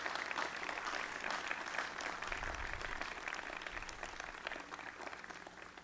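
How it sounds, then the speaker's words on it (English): Dense, sustained applause from a large commencement audience fills the hall in honour of faculty and staff, holding steady and slowly easing in level. "give another round of applause to the faculty and staff"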